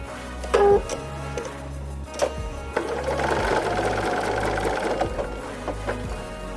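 A sewing machine stitches a quilt block in a steady, close whirring run that starts, pauses briefly and resumes, with no talking.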